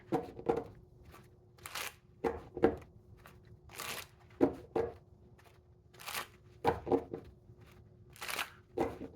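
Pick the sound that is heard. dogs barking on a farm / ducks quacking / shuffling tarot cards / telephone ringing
shuffling tarot cards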